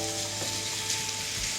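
Beef frying in a little olive oil in a Delimano ceramic pan with bay leaf and rosemary, a steady, close sizzle that holds throughout without talk, swelling slightly at the end.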